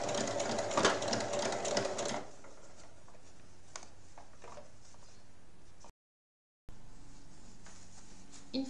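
A sewing machine stitches a small half-moon fabric pouch, starting with a fast, loud run of needle clatter that then eases into a quieter, steady rhythmic ticking, with one brief cut to silence.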